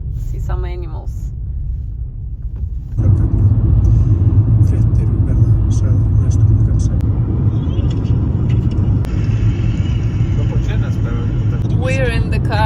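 Car interior on an Iceland road trip, with a steady low road rumble and engine hum that swells after a few seconds, while people talk over it.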